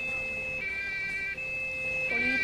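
A Polish emergency vehicle siren from police and fire brigade, steady two-tone wail close by and loud, with a brief pitch shift near the end.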